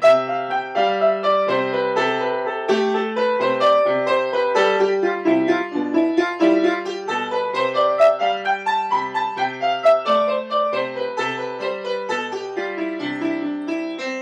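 Solo piano plays a continuous run of stepwise notes that rises and falls, changing direction unpredictably, steady and moderately loud with no pauses.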